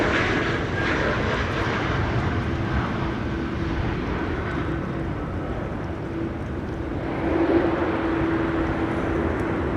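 Airbus A320neo jet at Amsterdam Schiphol Airport in stormy weather, a steady broad engine roar held at a distance, swelling slightly louder near the end.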